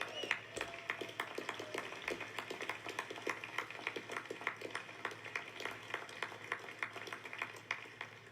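Steady applause from a crowd, dense rapid clapping that continues evenly throughout without pause.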